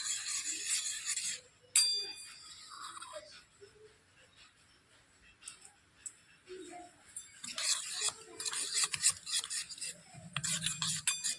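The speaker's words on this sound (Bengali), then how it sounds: "এবার অল্প জল দিয়ে একটা মিশ্রণ তৈরি করে নেব।" A spoon stirs and scrapes chili, coriander and cumin powder mixed with a little water in a bowl, with bursts of clinking and rubbing separated by quieter pauses.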